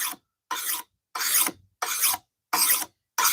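A knife blade being sharpened with repeated rasping strokes, six even passes at a steady rhythm with short silent gaps between them, close and clear with no talking.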